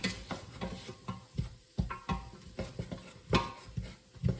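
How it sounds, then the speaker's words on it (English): A spoon stirs through a pot of lentil dhal as grated garlic goes in, with repeated close scraping and knocking strokes in an uneven rhythm. "I'm also going to add 1 grated clove of garlic. So into the pot."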